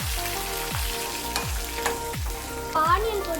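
Ginger and curry leaves hit hot oil for rava kichidi, crackling and sizzling close up in a few sharp repeated bursts with a steady frying hiss between them.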